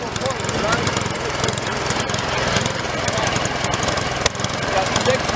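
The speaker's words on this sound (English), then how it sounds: "yard machine snow blower" An 8-horsepower Yard Machines self-propelled snow blower runs steadily at close range, a loud continuous engine drone with rough rattling texture throughout, with talk faintly mixed in.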